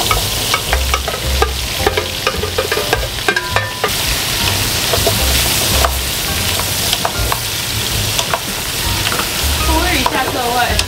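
Chopped vegetables stir-fried with sausage (chorizo) in a hot oiled pan, a loud, close, continuous sizzle with frequent scraping and tossing strokes of the spatula.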